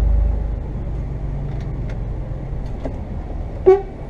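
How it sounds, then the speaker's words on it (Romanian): A single short truck horn honk sounds near the end on a forest road, brief and somewhat distant, over a steady low rumble of the truck's engine. "dau un claxon așa preventiv"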